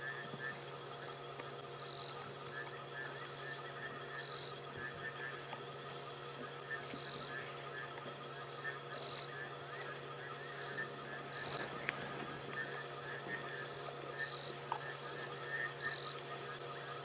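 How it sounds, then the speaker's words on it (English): Frogs call repeatedly in a night chorus on an African safari, regular pulsing croaks at a moderate distance over a steady low hum and faint insect trills, with a fiery-necked nightjar in the background. "We can hear frogs and a fiery-necked nightjar in the background."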